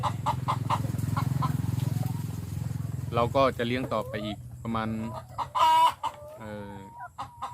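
Laying hens around 17–18 weeks old cluck on a farm, a rooster crows once near the end, and someone talks over the birds in the foreground.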